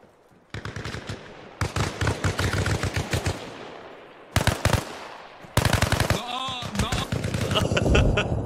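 Bursts of automatic and single gunfire in the Arma Reforger battle game: several loud rapid volleys broken by short gaps, with brief talk in the background.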